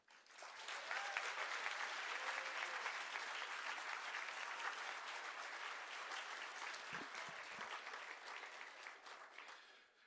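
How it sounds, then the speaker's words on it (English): Sustained applause from an awards ceremony audience, a thick, even wash of many hands clapping that swells quickly, holds steady for several seconds and fades at the end, heard from some distance. "as long as we're applauding"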